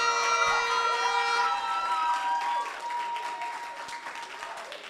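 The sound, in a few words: audience applause for election candidates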